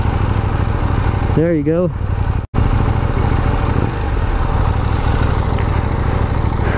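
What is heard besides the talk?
KTM Duke 790 motorcycle engine idling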